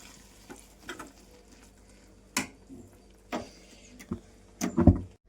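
Aloo kurma being stirred in a pan after coriander is added, a few sparse scraping and knocking sounds of a utensil against the pot, close and fairly quiet, ending in a brief cluster of stronger clanks.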